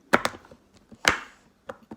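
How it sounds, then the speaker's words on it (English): Knife chopping through a solid block of cacao butter on a board, a few sharp distinct thunks spaced irregularly, close and clear with no talking. "just chop it like I'm just chopping it"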